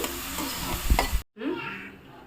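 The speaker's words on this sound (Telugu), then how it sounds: "బాగా ఫ్రై చేసుకోవాలి వీటిని గోల్డెన్ బ్రౌన్ కలర్లోకి వచ్చే వరకు ఫ్రై చేసుకోవాలి" Onions frying in a pan until golden brown, a dense crackling sizzle with stirring scrapes and a couple of thuds, cut by a brief silence before the softer sizzle resumes.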